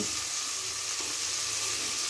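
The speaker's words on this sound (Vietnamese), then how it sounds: "bây giờ này để xào lên cho nó ngấm gia vị" Frog meat and green banana stir-fry in a hot pan, giving a steady, close, bright sizzle with a soft stirring scrape and no talking.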